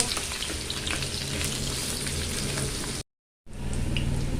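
Onion sautéing in a pan for a mussel and coconut curry, a steady close sizzle that cuts out briefly to silence for a moment and then resumes.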